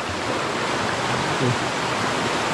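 A river rushes and gushes steadily in a broad, even roar of water at a swimming spot, loud and close throughout, with no other sound standing out.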